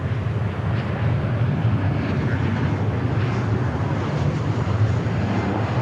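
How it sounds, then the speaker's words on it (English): A Lufthansa Airbus A340, a four-engine heavy jet at DFW Airport, produces a continuous broadband engine roar at fairly close range, holding steady and fairly loud throughout. "There is Lufthansa."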